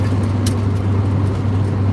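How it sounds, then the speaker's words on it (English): A 1963 Ford Falcon station wagon cruising at night, heard from inside: a steady low engine hum and road rumble with a faint brief jingle, no talking. "We're in my 1963 Ford Falcon station wagon"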